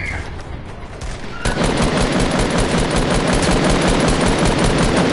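Sustained automatic-rifle fire in a shooter video game, starting quieter then breaking into loud, dense continuous bursts from about 1.5 seconds onward, with no talking.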